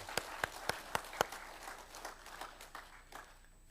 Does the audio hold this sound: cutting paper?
no